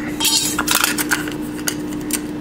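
Scissors snip the excess flap off an aluminum drink can being made into an alcohol stove, giving a few close, crinkly metallic clicks and rustles over a steady low hum.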